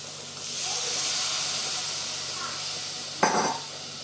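Water is poured into hot oil with red chili powder for sev usal, a loud steady hiss of steam and sizzling that holds for about three seconds, then a sharp, harsh burst of spluttering near the end.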